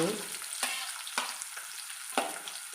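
Onion, green chili and carrot fry in a pan with a steady close sizzle, broken by a few sharp scraping stirs of a utensil.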